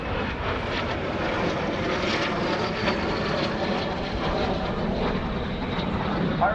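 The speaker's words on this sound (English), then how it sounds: "And up high to your right, you see Rusty Burgess bringing the aircraft back around." A military aircraft of an airshow flight team circles back at the 2016 NAS Oceana Airshow, its engine a steady, moderately distant roar and drone that holds across the clip.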